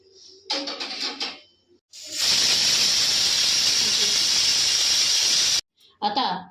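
A loud, steady high-pitched hiss of a pressure cooker whistle blasts for a few seconds while cooking dill greens, with people talking briefly before and after it.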